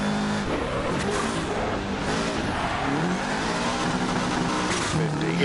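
A rally car drives an icy stage in DiRT Rally 2.0, its engine revving and changing pitch steadily while tyres skid and scrabble, loud and close, with a voice talking over it.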